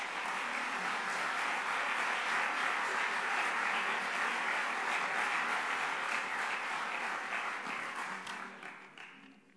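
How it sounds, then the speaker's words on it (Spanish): Audience applauding at a forum event in Spain, a broad even wash of clapping that holds steady for most of its length and then fades away toward the end, heard alone without talk. "les pido un aplauso para don Francisco Achaga López"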